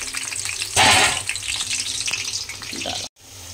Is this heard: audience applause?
no